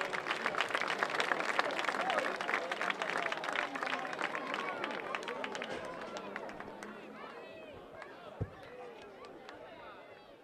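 Applause and cheering for a band at a music contest, lively crowd clapping mixed with voices and chatter, loud at first and gradually fading as the claps thin out.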